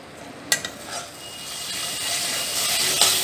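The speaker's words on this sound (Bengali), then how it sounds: "এবারে সব জিনিসগুলোকে জোর আঁচে 30 সেকেন্ড কষে নেব।" Spices frying over high heat for Bengali dhokar dalna, a steady loud sizzle and hiss that builds through the clip, with a couple of sharp clinks of a utensil against the pan near the start.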